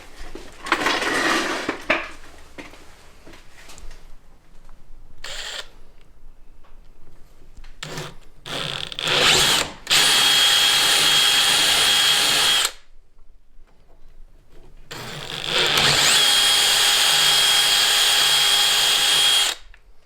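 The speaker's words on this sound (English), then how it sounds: "now you step it up to your 5/16 bit" A power drill with a 5/16 bit bores holes while fitting a Rhino Rack Backbone system on a Jeep Gladiator, two long loud steady whining bursts separated by pauses and shorter handling clatter, with no talk.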